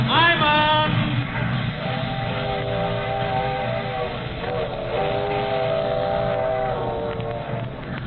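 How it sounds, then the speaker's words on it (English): A train pulls away from a station platform, its wheels and carriages rumbling steadily with long whistle-like tonal squeals for about eight seconds, fairly loud and close with no talk. "The train's moving."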